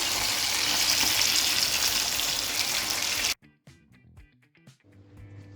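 Chicken 65 frying in hot oil, a loud, dense, continuous sizzle that cuts off abruptly after about three seconds, followed by near quiet with faint scattered sounds.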